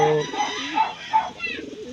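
Pigeons cooing close by, low soft rolling calls repeating over a couple of seconds, with a voice talking alongside.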